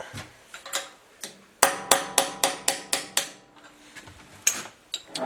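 Sharp metallic hammer strikes ring out as a wedge is set to hold a die in a power hammer, a few scattered taps then a quick run of evenly spaced blows, close and bright, with more taps afterward.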